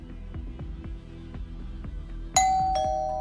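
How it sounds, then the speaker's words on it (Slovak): A Loxone smart office doorbell at reception chimes once, a clear bright ding that rings out and decays, heard over a steady rhythmic music bed. "Signál zvončeka a žiadosť o prístup cez aplikáciu sa vydávajú iba tu."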